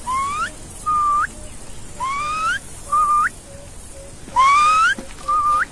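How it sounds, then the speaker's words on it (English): A Maasai man whistles to call a honeyguide bird, repeating short rising whistled phrases about once a second, clear and close over quiet background. "is whistling to attract a honey guide"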